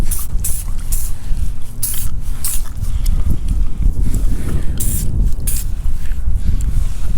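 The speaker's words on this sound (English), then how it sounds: "I'm gonna keep spraying pretty much every metal surface that I see back here" Aerosol spraying of PB Blaster Surface Shield rust protectant onto a car's metal surfaces behind the bumper, heard as close hissing bursts in short repeated pulses, with faint handling noises between them.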